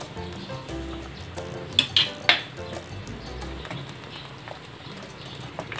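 Metal spoon stirring creamy Filipino sopas with elbow macaroni in a cooking pot, giving scraping, clinking strokes with a few sharper clanks against the metal, close and moderately loud, with no talking.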